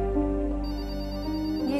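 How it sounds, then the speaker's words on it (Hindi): A telephone rings repeatedly in a household, its steady tonal ring running throughout at moderate, fairly close loudness with no talk over it. "जाओ देखो कौन फोन कर रहा है बार बार।"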